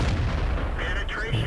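A tank gun fires in World of Tanks, followed by a French S35 CA tank destroyer. One heavy boom fills the clip with a long low rumble and a whistling trail afterward.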